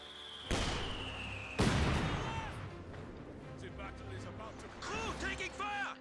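Heavy gunfire and artillery in the real-time strategy game Company of Heroes 2: two loud booms early, then scattered shots and explosions with whistling shell sounds, under a commentator's talk.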